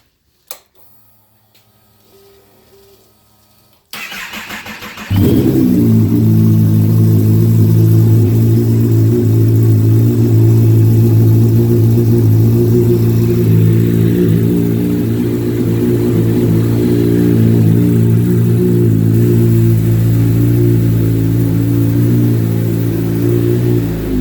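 A Ninja 2 motorcycle engine cranks with a faint starter whir, then catches and settles into a loud, steady, throbbing idle that continues close by without a break.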